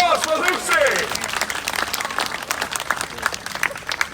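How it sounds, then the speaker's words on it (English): A Christmas show audience applauds a performer, dense clapping swelling at the start and then thinning into scattered, uneven claps over a few seconds, with a faint tonal ringing near the beginning. "another big round of applause for Lucy!"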